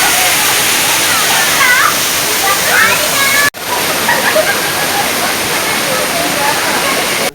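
Rampa waterfall in Maredumilli, Andhra Pradesh, pours in a dense, continuous roar of falling water, loud and close, with a brief break midway and a voice speaking faintly under the rush.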